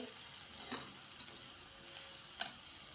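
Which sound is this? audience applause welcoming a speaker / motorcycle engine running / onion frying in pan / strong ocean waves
onion frying in pan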